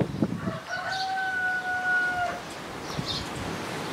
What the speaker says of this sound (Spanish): se lo he hecho a las gallinas y se ponen como locas